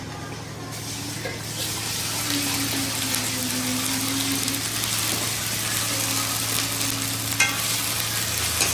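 A ginger, garlic and cumin paste fries with onions and curry leaves for a chicken curry. The sizzle is loud and constant, with stirring and a low steady hum underneath. No voices are heard.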